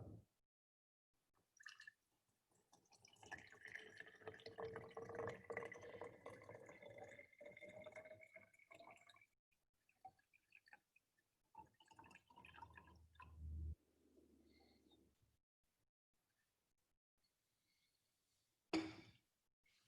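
Distilled deionized water pours into a laboratory flask, about 200 milliliters, with a gurgling, splashing fill whose pitch rises steadily as the vessel fills. Then come a few short pours and a closing clink, all fairly quiet.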